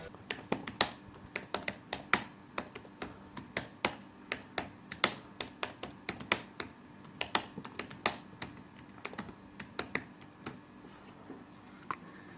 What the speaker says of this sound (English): Here's the keyboard test.